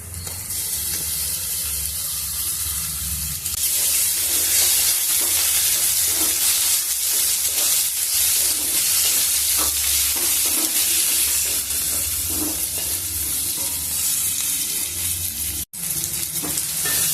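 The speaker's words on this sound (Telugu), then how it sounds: "ఇప్పుడు చికెన్ ముక్కలు వేసుకున్నాము" Chicken pieces, washed and rubbed with turmeric and salt, frying over medium heat in a pan for a brinjal chicken curry, giving a steady loud sizzle with occasional stirring scrapes and no talk.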